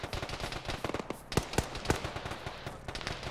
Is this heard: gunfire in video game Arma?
yes